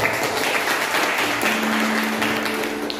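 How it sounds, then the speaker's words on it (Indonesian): Guests at a church holy matrimony blessing ceremony clap together in a steady burst of applause. A faint sustained tone hums underneath. "Tepuk tangan dong."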